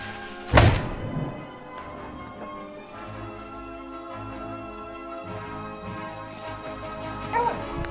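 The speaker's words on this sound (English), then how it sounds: "Hearing the loud barking of the hunting dogs" A hunting dog gives one sharp, loud bark near the start, followed by fainter whimpers and yips over a quiet outdoor background with a few soft thuds.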